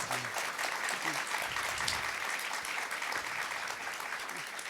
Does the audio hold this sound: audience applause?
yes